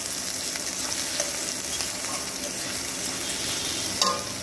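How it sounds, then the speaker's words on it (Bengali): Chopped onions fry in hot oil with whole spices in a pan over medium-low gas, a dense, steady sizzle with occasional light stirring scrapes, close and continuous with no talk. "প্রথমে পেঁয়াজ কুচিটাকে নিলাম, নিয়ে এই ফোড়নের মধ্যেই দিয়ে দিলাম পেঁয়াজ কুচিটা। পেঁয়াজটাকে খুব ভালো করে একটু ভেজে নেব।"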